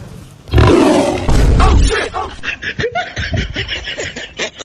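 A loud lion roar plays as a sound effect in a comedy sketch, a rough, booming burst followed by fluttering growls and snickering noises, close and unaccompanied by talk.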